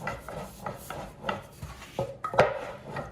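A wooden dowel rolls over fresh pasta dough, making soft repeated rubbing and pressing strokes with light knocks and scrapes against the work surface at an uneven rhythm, close by.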